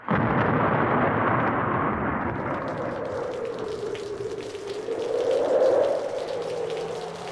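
A heavy rainstorm at night on an interstate highway, with a dense, loud wash of rain and a deep rumbling roll like thunder, steady throughout with a slight swell near the end.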